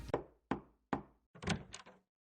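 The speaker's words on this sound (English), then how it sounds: "I hear a knock, and then the door opens." Three sharp knocks on a wooden door sound close and evenly spaced in a visual novel scene, followed by a cluster of thuds and rattles as the door is opened, with no speech.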